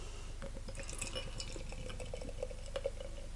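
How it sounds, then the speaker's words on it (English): Firebrand Coffee Stout from Firebrand Brewing Company poured briskly from a can into a glass, giving a soft, steady glugging and fizzing that stays faint and close for a few seconds. "Started off with a bit of a rigorous pour."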